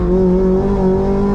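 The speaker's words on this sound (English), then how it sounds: "VTEC kicks in, let's go." A Honda DC5 with a K24 engine holds a loud, sustained high-rpm howl as VTEC engages on a lap of the Nürburgring. The steady tonal note comes from inside the car.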